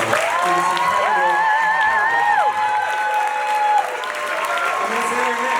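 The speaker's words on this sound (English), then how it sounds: "please give the hugest round of applause in the whole world for this incredible" Dense, sustained theater applause at a Broadway final curtain call fills the space, loud and steady from start to finish, with cheers, whoops and raised voices riding over the clapping.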